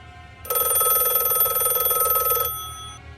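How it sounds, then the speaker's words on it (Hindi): An old telephone rings suddenly in the lobby of a haunted hotel, one continuous loud bright bell ring lasting about two seconds after a quiet start, then fading into near silence. "एक टेलीफोन बजता है अचानक।"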